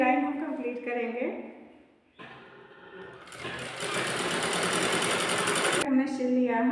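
Sewing machine stitching a folded net fabric kurti neckline, a loud steady whirring run of a few seconds, with someone talking before and after it.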